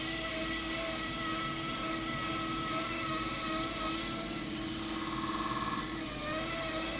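A wood lathe spins at high speed while a black walnut bowl is finished and burnished, giving a steady, loud, continuous whirring hum with high whine throughout and no break.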